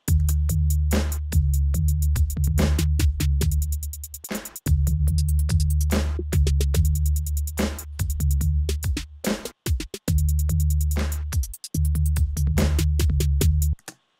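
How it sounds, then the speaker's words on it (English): Trap and glitch drum fills from an Ableton Live rack, a loud, dense electronic pattern of heavy sub-bass kicks, rapid hi-hat and snare rolls, and abrupt stutters and cutoffs between short bursts. "trappy, glitchy drum fills with some tweaks to some knobs."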